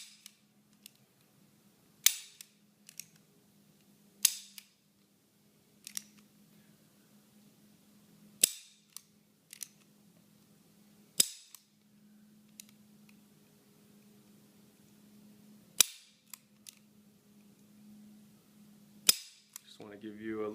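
Ruger SR22 .22 Long Rifle pistol trigger being dry-fired on a tabletop, a series of sharp, close metallic clicks spaced a second or two apart over a low steady hum, with a brief moment of faint talk near the end.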